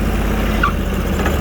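Steady drone of a 20 HP Sears Suburban garden tractor engine running continuously at a constant pace while clearing brush outdoors, fairly loud and close with no talking.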